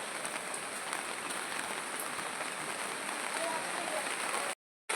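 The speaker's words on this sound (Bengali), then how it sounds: "এখন বৃষ্টি পড়ছে" Steady rain falls continuously at close range, a dense even patter filling the whole stretch without voices, broken only by a brief dropout near the end.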